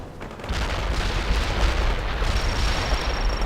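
Rocket launcher explosions in the war game World in Conflict, a loud, continuous barrage of booming blasts and rumbling fire that fills the whole clip, with a faint high whine entering near the end.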